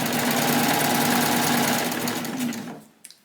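A serger sewing machine runs steadily as it serges a seam on a boatneck garment, a loud continuous motor whir with fast needle chatter that winds down and stops near the end, followed by a small click.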